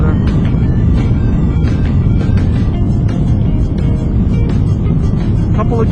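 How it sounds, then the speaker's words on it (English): A 2008 Yamaha FZ1 motorcycle engine roars steadily and loudly while riding, bouncing off the rev limiter with a dense, continuous drone under heavy wind rush. "Couple of gears on the rev limiter."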